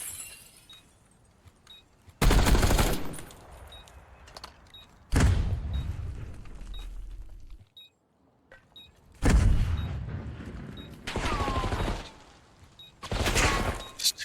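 Bursts of automatic gunfire in the video game Black Ops 6 during an esports match, four loud volleys with sharp onsets separated by short quieter gaps and faint background game sounds.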